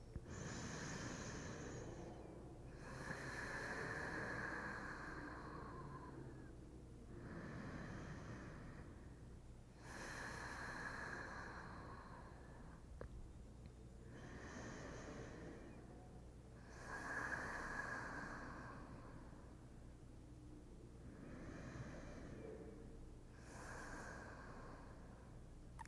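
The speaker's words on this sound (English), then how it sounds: "Take an inhale through the nose. Exhale out through the mouth. And then just breathe here 3 breaths." Slow, steady breathing during a gentle beginner yoga class, each breath drawn in through the nose and released out through the mouth, repeating in a calm, even rhythm for several cycles, close and quiet with no talking.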